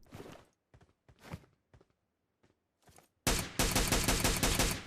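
A video-game firefight starts with scattered short bursts, then erupts into a loud, sustained volley of rapid automatic gunfire close by, with no talk over it.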